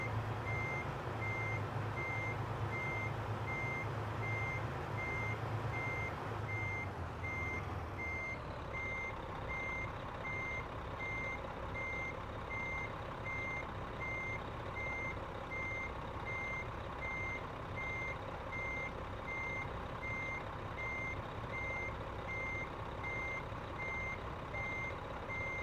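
A truck's reversing alarm beeps in a steady, evenly spaced pattern over a low engine rumble while backing a trailer in American Truck Simulator. An air-brake hiss comes early, and there is no talk.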